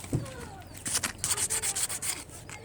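A tool scrapes remnants off car AC compressor parts in a series of short, rhythmic rasping strokes, close and fairly loud, after one sharper knock at the start.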